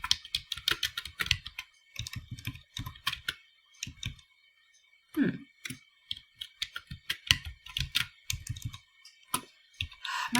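Clicky computer keyboard keys tapped in quick irregular bursts with short pauses, close and fairly quiet, while HTML code is typed.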